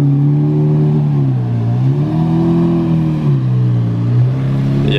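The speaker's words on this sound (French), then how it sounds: "Là, je l'ai entendu arriver de loin avec le V12." A Lamborghini LP640 Versace edition with a V12 engine, a loud, close, smooth harmonic drone that rises and dips in pitch as the engine revs gently up and down over several seconds.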